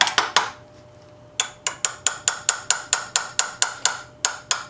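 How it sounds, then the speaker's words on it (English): Steel hammer blows strike an old wrench while fitting a part on a Brownwall hit-and-miss engine under restoration: three quick ringing metallic hits, a pause, then a steady run of about thirteen evenly spaced loud clanks, close and with no talking. "try and hammer it on"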